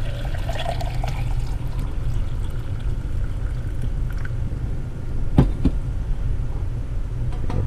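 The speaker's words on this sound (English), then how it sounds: "we're going to pour the hot water into the cup" Hot water poured into a Corkcicle insulated cup, a continuous low liquid rush and gurgle, close and moderately loud, with a brief knock partway through.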